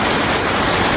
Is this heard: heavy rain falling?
yes